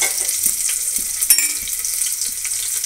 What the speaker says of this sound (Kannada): ಒಂದು ಸ್ವಲ್ಪ ಫ್ರೈ ಆಗಲಿ ಚೆನ್ನಾಗಿ ಉಪ್ಪು ಹಾಕಿದರೆ ಒಂದು ಸ್ವಲ್ಪ ಈರುಳ್ಳಿನೂ ಬೇಗನೆ ಫ್ರೈ ಆಗುತ್ತೆ